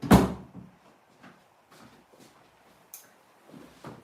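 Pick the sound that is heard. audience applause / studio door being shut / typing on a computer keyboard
studio door being shut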